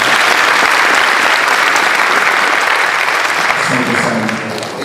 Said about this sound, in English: Let us give a round of applause to Achien.